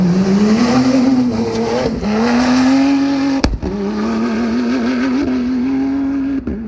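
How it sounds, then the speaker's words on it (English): A Toyota Hilux hybrid rally car at the Dakar Rally roars past with a loud, sustained engine note that shifts pitch as it goes by, with brief sharp bangs partway through and no voices. "you'll hear the Hilux coming through in there"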